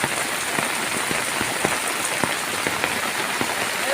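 A steady roar of heavy morning rain fills the air, broken by frequent sharper drops hitting a nearby surface, with no one speaking.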